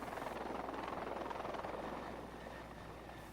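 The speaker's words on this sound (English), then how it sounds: "Helicopters like this one can carry up to 6 people." A helicopter in flight gives off a steady, whirring rotor drone with a broad engine hum, held at a moderate distance and fairly even in level throughout, with no voices.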